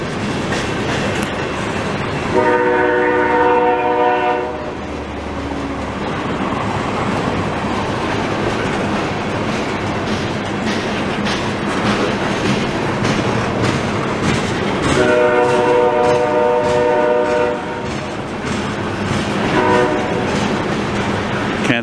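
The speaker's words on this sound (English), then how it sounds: "Say I've ever filmed many CP trains with the horn blowing at a crossing." A CP freight train rolls past a crossing in Delson, Quebec, with a steady rumble and wheel clatter throughout, broken by two long horn blasts near the start and again later, close and loud.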